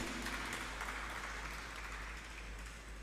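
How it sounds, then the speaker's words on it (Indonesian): Audience clapping at an electronic land certificate event in West Java, Indonesia: a dense burst of applause that fades slightly toward the end. "Tepuk tangan juga untuk Pak Yadi."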